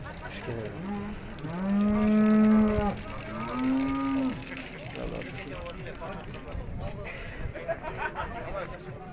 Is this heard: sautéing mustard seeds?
no